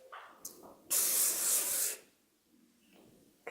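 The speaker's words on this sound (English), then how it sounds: "And then I go around and spray the rest of it," A single one-second burst of hairspray sprayed onto hair, a bright close hiss that starts abruptly and cuts off, with faint rustling of handling before and after.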